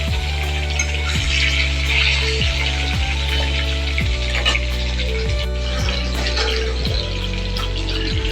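Tomatoes fry in hot oil tempered with whole cumin and two bay leaves for a prawn and cabbage curry, giving a steady close sizzle with a low hum underneath and a few faint stirring clicks.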